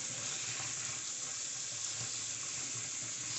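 Hot water runs steadily from a tap into a sink while makeup brushes are washed with dish soap and olive oil, a continuous close hiss of flow with no talk.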